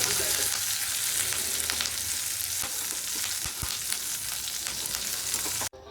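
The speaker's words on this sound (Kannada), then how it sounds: "ಒಗ್ಗರಣೆನ ನೀವು ಲಾಸ್ಟ್ ತನಕ ಲೋ ಫ್ಲೇಮಲ್ಲೇ ಇಟ್ಬಿಟ್ಟು ಮಾಡಬೇಕು ಗೈಸ್." Spices for a tomato rasam tempering sizzling in oil on a low flame, a continuous dense crackle and hiss heard up close, with a couple of sharper pops and no talking.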